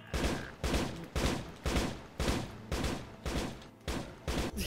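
Automated turrets in a Minecraft modpack fire a rapid series of gunfire bursts, about eight evenly spaced loud volleys.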